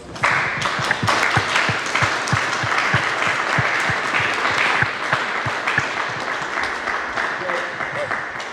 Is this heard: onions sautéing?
no